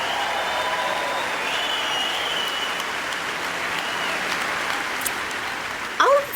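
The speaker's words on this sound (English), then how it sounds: "Let's have a round of applause for all the recipients." An audience at a 2023 NAAPID evening event applauds award recipients, a steady, moderately distant wash of clapping that holds evenly before a brief voice and louder rustle near the end.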